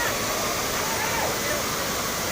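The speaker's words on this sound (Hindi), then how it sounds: "जो झरना कितना अच्छा" A waterfall near the Ghatarani temple in Gariyaband, Chhattisgarh gives off a dense, continuous rushing roar of falling water, steady and loud throughout the short span.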